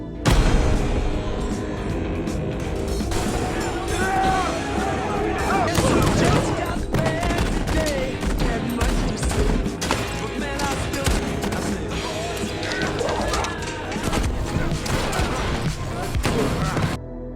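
Gunfire rattles through an action film attack on a gang's henchmen: loud repeated shots and volleys pile up continuously amid a dense, busy soundtrack with voices mixed in.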